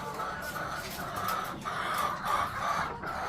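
Adler and Leghorn hens cluck in a home poultry enclosure, a near, repeated series of clucks and short calls with a low background murmur, fairly quiet overall.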